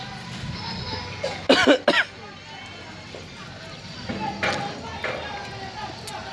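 Two sharp, close coughs in quick succession, then quieter shuffling and faint background noise.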